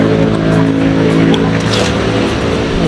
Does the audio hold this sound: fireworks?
no